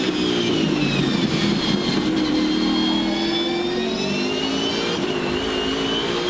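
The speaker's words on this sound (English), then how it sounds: "Just listen for the wheel spin." V8 Supercar at the 2014 Gold Coast 600 accelerating out of the final corner with wheel spin, a loud, steady engine roar with rising revs and a gear change, close and continuous with no talking.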